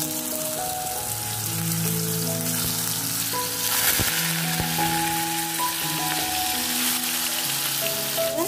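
Pumpkin fritters frying in hot oil in a wok, giving a steady, close, crackling sizzle throughout, with faint tonal hum in the background.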